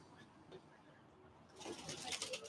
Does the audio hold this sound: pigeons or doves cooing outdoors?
yes